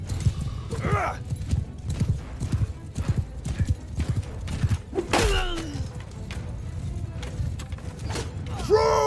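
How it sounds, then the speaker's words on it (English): Cavalry horses in Mount and Blade II Bannerlord gallop in a rapid, uneven clatter of hoofbeats, joined by a loud whinny midway and another near the end, plus scattered battle thuds. "tell my cavalry to follow me so that I can tear up their horse archers"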